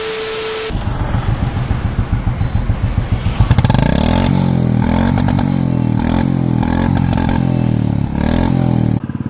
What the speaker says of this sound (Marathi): तुम्ही आता बुलेटचा आवाज ऐकला असेल, मी थ्रॉटल देत होतो. इंदोर सायलेन्सर टाकलं